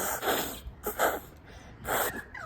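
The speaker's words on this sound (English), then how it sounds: "I've got to blow my nose." Close nose blowing, made by a woman with spring pollen allergies, in three honking, breathy bursts with brief pauses between them.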